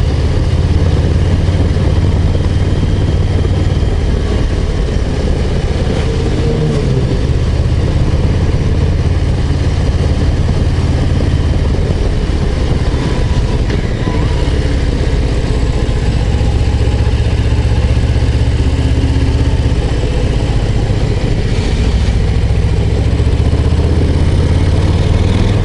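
Harley-Davidson Low Rider ST motorcycle engine droning steadily while riding a mountain road over the Col de la Colombière, loud and continuous throughout with wind rush and no talk.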